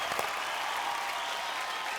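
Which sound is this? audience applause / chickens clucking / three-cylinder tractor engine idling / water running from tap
audience applause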